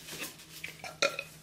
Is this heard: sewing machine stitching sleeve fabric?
no